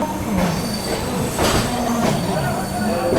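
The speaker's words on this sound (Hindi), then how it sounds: "अपनी महाबोधि एक्सप्रेस निकल चुकी है देश की राजधानी नई दिल्ली से" The Mahabodhi Express pulls out of New Delhi, with close rolling rail noise, wheel squeal and some clatter under brief talk.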